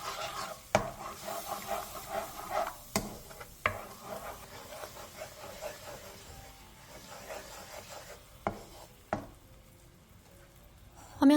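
Seasoning sauce with a spoonful of cooking oil heats in a pan over high heat, a soft sizzle with scattered scraping and stirring clicks, fairly faint and close, no talk.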